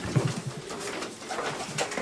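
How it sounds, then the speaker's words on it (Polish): Soft, low pigeon cooing repeats a few times against a faint outdoor background, with a light flutter early on. "o tu chyba ląduje gołąb gdzieś"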